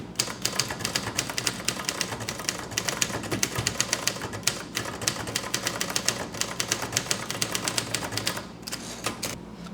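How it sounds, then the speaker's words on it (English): Rapid, even keystrokes clatter on a Groma Kolibri ultra-portable typewriter, a close and continuous run of crisp clicks with a brief pause near the end. "let me do a little bit of typing on this so we can just enjoy how smooth it is"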